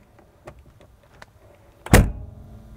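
A 47-year-old Mercedes car door shut once more: faint handling clicks lead into one heavy, dull thud close by, followed by a brief low decay, with no one speaking.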